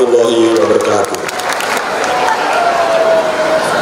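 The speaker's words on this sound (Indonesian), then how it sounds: "Mari kita beri tepuk tangan sekali lagi" Audience applause at a school arts performance, a dense wash of clapping from a crowd, steady and fairly loud throughout, with a voice speaking over it near the start.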